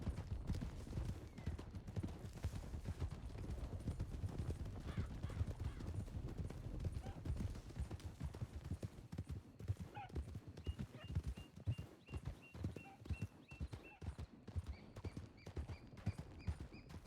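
Horses' hooves clip-clop steadily in a video game as riders head down into a river, the repeated thuds dense and close throughout, with a few brief higher tones late on.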